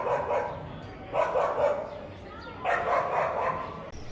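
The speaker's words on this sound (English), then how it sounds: "it seemed to be the town of barking dogs" Dogs in the town of Hondarribia bark in several bursts, moderately distant, over a faint background hum.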